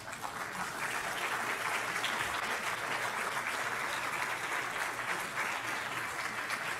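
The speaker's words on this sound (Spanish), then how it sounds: "Den un aplauso al Señor." A church congregation applauds during a sermon, a dense, steady wall of clapping from many hands that stays loud and even from start to finish, with no one speaking over it.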